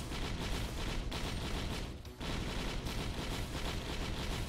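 Dense, continuous gunfire and explosions in the action video game Risk of Rain, loud and relentless with a brief lull in the middle.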